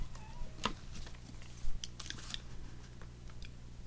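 Scissors snipping paper ephemera close up, a few quiet, sharp cuts and rustles spaced unevenly over a low steady hum, no speech.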